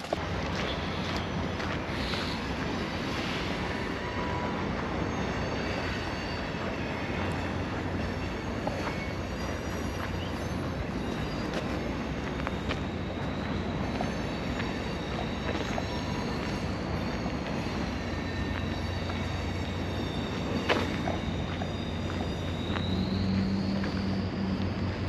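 An Amtrak or Via Rail train rumbles steadily nearby at a station with a low mechanical drone, occasional clanks and a rising metallic wheel squeal toward the end.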